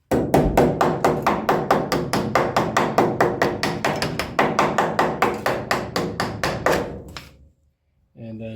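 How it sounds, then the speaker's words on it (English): Rapid, steady metallic hammer-and-dolly taps on a Porsche 914's sheet metal, around thirty evenly spaced strikes, close and loud, then a pause and a brief muffled sound at the end. "Then I'll just go back around with the hammer and dolly"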